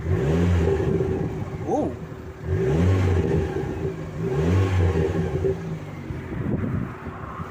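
An Abarth Punto's engine is revved three times, each burst rising and falling in pitch with a throaty growl, and a short exclamation is heard partway through.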